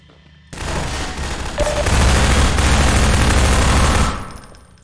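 Loud, continuous automatic gunfire in the Half-Life 2 mod Minerva Metastasis: a sustained fusillade that starts abruptly, holds for about three and a half seconds and then cuts off.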